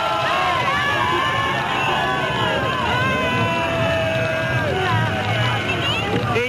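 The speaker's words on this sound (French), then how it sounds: "Et vous entendez tout le monde chanter des chansons, pousser des cris en l'honneur de la victoire." Large crowd in an African victory celebration, voices singing songs and shouting cheers together, a dense continuous roar of many people close by, heard on an old archival radio recording.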